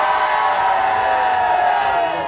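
A large audience cheers and whoops at full volume, a dense sustained roar of many voices filling the whole moment without pause.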